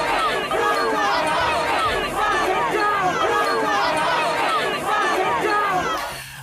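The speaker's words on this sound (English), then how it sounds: "It is a crowd in the cold," A large crowd at a far-right anti-Islam rally in London roars and chants continuously, a dense, loud wall of massed voices with rhythmic surges, fading near the end.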